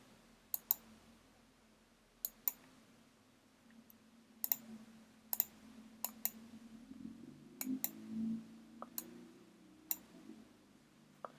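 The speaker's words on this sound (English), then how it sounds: "It essentially will just show you when you are clicking the mouse." Sharp computer mouse clicks land singly and in quick pairs at irregular intervals, crisp and close against a faint low background hum, with no talk.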